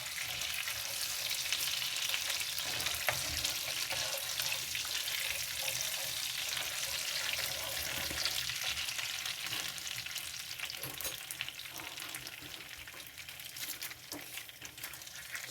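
Whole cumin seeds, with small green cardamom pods, sauté in a pan, producing a continuous frying crackle with occasional stirring scrapes, steady and close, easing slightly toward the end; no voices.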